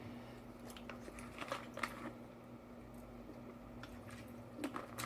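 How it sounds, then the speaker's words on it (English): Small sips and swallows of water taken indoors, soft wet mouth sounds and a few gulps spread over several seconds against a steady low hum, close and fairly quiet with no talking. "Let me drink a little water."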